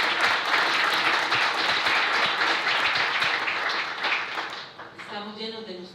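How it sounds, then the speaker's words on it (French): Audience applause for the French ambassador at the opening of a France–Central America meeting of university rectors, a full, dense clapping that fades toward the end as a speaker's voice returns. "Je vous demande d'applaudir Monsieur l'ambassadeur de France."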